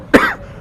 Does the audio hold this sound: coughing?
yes